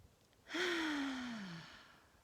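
A single slow, deep breath is drawn in as part of a relaxation breathing exercise, a soft airy rush with a faint voiced tone, heard close and alone.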